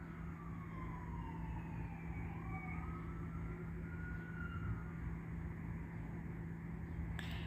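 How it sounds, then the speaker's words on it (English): Sirens wail from a distance, rising and falling in long overlapping sweeps above a steady low hum, with no voices. "That is the amplification of sirens as I begin to record."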